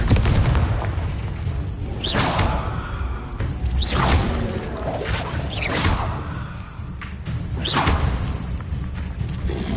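Confringo spell blasts in Hogwarts Legacy: repeated booming bursts with whooshing tails roughly every two seconds, loud and close over a dense, rumbling combat background.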